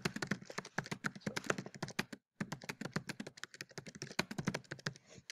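Typing on a computer keyboard, a dense close stream of quick key clicks with a brief pause partway through, no voices.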